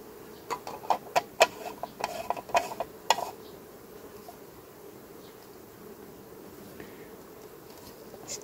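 Honey bees shut inside a varroa mite test jar make a faint, steady buzz, with a quick run of sharp clicks and taps at the start before the low hum carries on alone.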